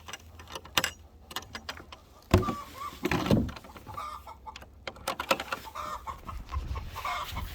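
Chickens cluck around a large backyard coop made from an old multi-dog house in the Upper Midwest, with intermittent close clucks between scattered knocks and rustling, and no talking.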